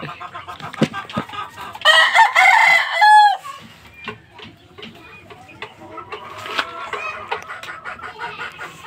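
Freshly bathed fighting rooster crowing loudly up close, with clucks and other fowl sounds around it and a voice speaking in the background.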